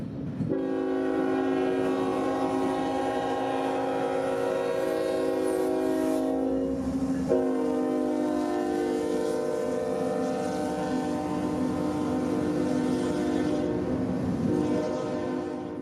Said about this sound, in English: Norfolk Southern would enter the picture as train 249 would smash the diamonds with more intermodal traffic for jacks.